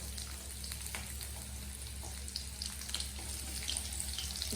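Dried fish (loitta shutki) frying lightly in oil with chopped garlic and onion, a steady soft hiss and crackle under a constant low hum, fairly quiet and even throughout with no voices.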